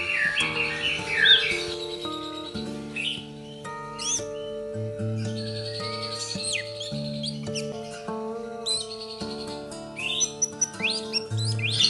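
An orange-headed thrush in molt sings bright chirps and warbled phrases over steady sustained tones, fairly soft and close, with no talking.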